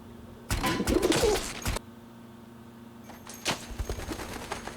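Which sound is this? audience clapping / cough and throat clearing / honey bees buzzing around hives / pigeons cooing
pigeons cooing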